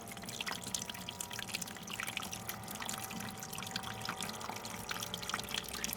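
Water pours and trickles steadily into a small homemade hydroponic system, a continuous close splashing and dribbling with faint drips throughout.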